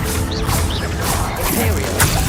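A Bombarda blasting spell hits in Hogwarts Legacy with a burst of crashing impacts and clattering debris, loud and busy under a talking voice.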